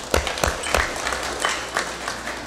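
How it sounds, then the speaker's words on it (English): Audience applause in a congress chamber during a special legislative session, a few distinct claps at first then a short, moderate patter of clapping that stays fairly faint. "Let's give him a round of applause"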